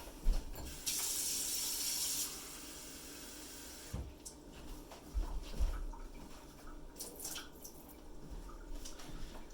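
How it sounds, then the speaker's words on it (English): Cold water runs from a tap into a fermenting container in a steady broadband rush for about a second and a half, then stops, followed by quieter clatter and handling noises. "Then I'm going to fill it up with cold water."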